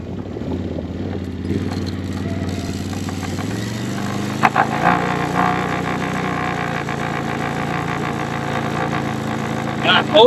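A machine's engine runs steadily in low gear while pulling a drag across a newly graded pond dam during planting, a continuous mid-pitched rumble that grows rougher and louder partway through.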